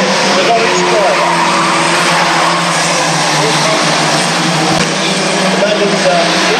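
Race cars at Aldershot Raceway roar and skid with tire squeal, a constant loud engine wash heard from a distance while a commentator talks over it.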